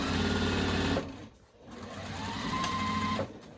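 A sewing machine runs fast for about a second, stops briefly, then speeds up again in a second steady, close, loud whir.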